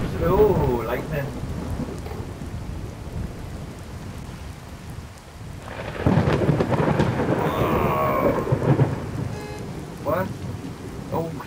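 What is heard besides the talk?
thunderstorm with lightning in video game Sightline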